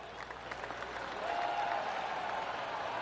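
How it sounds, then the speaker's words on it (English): Gallery applause rises from a golf crowd in the video game PGA Tour 23, a steady broad patter that swells midway and holds at moderate distance, with faint speech underneath. "Oh, golf clap."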